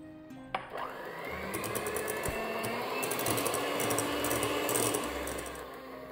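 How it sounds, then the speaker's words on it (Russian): An electric mixer whisks meringue after lemon juice is added, a continuous close whirring drone that holds steady for several seconds after a short clatter at the start, with no speech. "Добавляем лимонный сок и взбиваем еще минуту."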